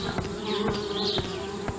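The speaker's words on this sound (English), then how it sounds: "Darn bees, trying to move into our treehouse." Bees buzzing around a beehive by a treehouse in the video game Anna's Quest, a continuous droning hum with a few soft ticking pulses, fairly close with no one talking.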